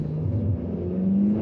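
2024 Nissan Sentra SR pulling away hard from a brake-torqued launch, with a steady, loud engine drone and a rising whine of revs, heard close with no talking.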